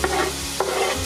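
Chopped onions poured into hot olive oil in a small pot for a vegan winter chestnut and cider stew, a close dense sizzle with two sharp bursts as they land.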